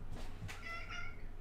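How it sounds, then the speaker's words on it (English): A pet cat lets out a soft meow, quiet and close, with a drawn-out whining tone lasting about a second against a faint background hum. "Oh, hello kitty. My cat arrived."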